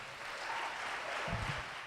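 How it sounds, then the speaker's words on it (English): Faint, brief applause from a small audience at an evening TEDx-style school talk event, a soft steady patter of clapping with a low murmur underneath. "Please give them another round of applause."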